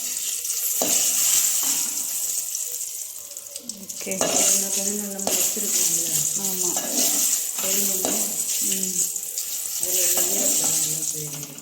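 Green chilies sautéing in an open pan for tomato pickle, with steady sizzling and frying hiss, stirring scrapes and occasional clinks of utensils against the pan throughout, close and moderately loud, with brief background talk.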